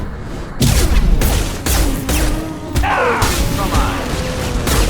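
Heavy gunfire in the Mass Effect 2 video game: dense, overlapping bursts and booming shots, loud and sustained throughout, with brief gaps, while a voice calls out over the combat.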